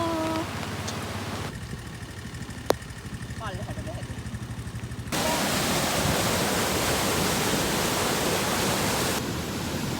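Swollen, flooded village river in Sri Lanka rushing during rain: a loud, continuous roar of churning water that grows stronger and fuller midway and holds steady to the end.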